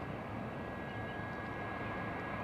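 A DC-9 jet airliner at Anchorage gives off a steady, broadband roar that holds at an even level throughout, with a faint high tone riding on top and no voices.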